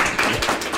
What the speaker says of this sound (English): If I could get a round of applause for Veronica Taylor again.